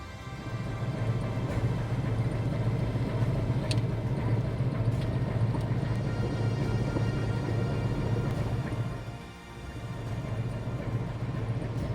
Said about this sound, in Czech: Doprovázet nás bude pouze klapavý zvuk motoru lodi.